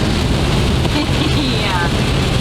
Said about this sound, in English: It's hardly raining.